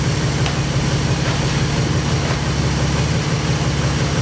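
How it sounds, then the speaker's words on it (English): A 2013-14 Ford Mustang V6 fitted with a JLT cold air intake runs steadily and loudly up close, a continuous low engine drone with only slight swells in pitch and no voices. "We'll give it a few revs so you guys will be able to hear out what the intake sounds like."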